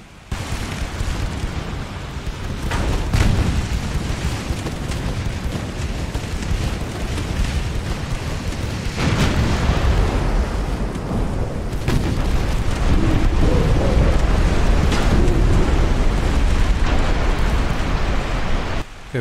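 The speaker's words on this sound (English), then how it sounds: "Okay, we've got multiple torpedo hits" Torpedo hits on warships in Ultimate Admiral Dreadnoughts, heavy booming explosions rumbling loud and dense, several blasts rolling over a continuous low roar of naval battle.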